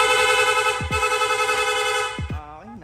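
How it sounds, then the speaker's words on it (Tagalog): A rapid horn on a Yamaha Sniper 155 motorcycle with an aftermarket horn setup blares loud and close as a fast-pulsing, buzzy, continuous tone for about two seconds before it cuts off. "Rapid horn."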